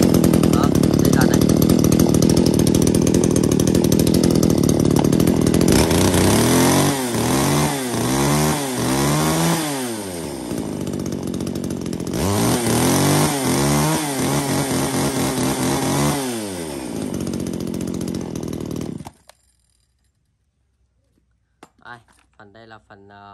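A Japanese Tanaka chainsaw engine runs loud and close, revving up and down in repeated rising and falling bursts over a rough idle, then cuts out abruptly to near silence with faint handling noises.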